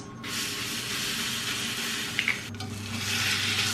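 Small potatoes crisping in garlic butter with salt and pepper, a steady broad sizzle and hiss filling the pan throughout, with a brief clink of stirring midway and no voices.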